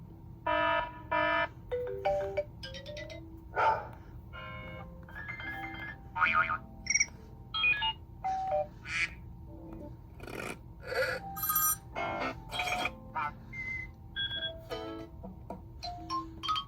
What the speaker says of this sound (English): Let's also quickly go through the ringtones.